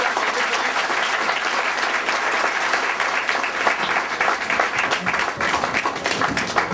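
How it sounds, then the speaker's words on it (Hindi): Loud, dense applause from an audience at an educational society event in Chamba, India, sustained as a continuous crackling roar of many hands from start to finish with no talk over it. "मैं जोरदार स्वागत चाहूँगा इनका भी, जोरदार तालियों से।"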